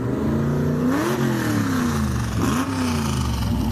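A 1955 Chevy's engine revs loudly at close range during a Halloween parade in Cumberland, Maryland, the pitch swelling and dipping twice over a steady rumble.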